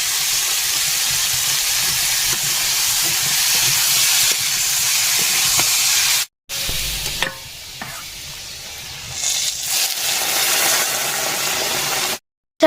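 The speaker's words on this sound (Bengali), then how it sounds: "আলুগুলো দিয়ে দিলাম তেলে, আর হলুদ গুঁড়ো লঙ্কার গুঁড়ো লবণ দিয়ে দিয়েছি" Potato pieces frying in oil in a home kitchen with turmeric, chilli powder and salt, a steady close sizzle and hiss with occasional stirring, briefly cut to silence twice.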